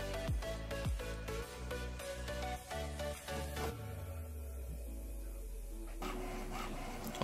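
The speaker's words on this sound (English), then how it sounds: "Now the printer is going to proceed into alignment." An HP OfficeJet 4650 inkjet printer prints an alignment page, whirring and clicking steadily, its carriage motor humming with sharp mechanical ticks and a low drone, running alone without talk.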